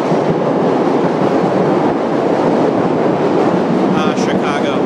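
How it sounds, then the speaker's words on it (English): A train passes nearby in Chicago with a loud, steady rumbling roar and rattling wheels, ending in a few higher metallic squeals. "There's a train."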